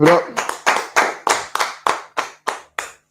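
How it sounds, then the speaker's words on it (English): Hands clap about ten times in a slowing, evenly spaced rhythm, each clap sharp and close, with a brief voice at the very start. "clap it up"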